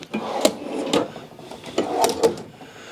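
Full-extension wooden drawers in a 2018 Keystone Outback 250 URS travel trailer kitchen slide open and shut several times, with soft thumps and rolling rasps of runners, close up and without speech.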